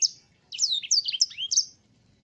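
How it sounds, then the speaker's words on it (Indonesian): A female sanger bird in breeding condition sings a loud, clear series of bright whistled chirps and short slurred phrases, close and alone, without a long trilling roll. "Sanger betina pada saat birahi, bisa berbunyi nyaring, meskipun tidak ngerol panjang,"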